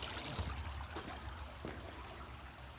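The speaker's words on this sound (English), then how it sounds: "This is the brook" A small brook flowing under a bridge on a trail near Staffa Crescent on Arran, a steady close trickle and gurgle of water with no talk.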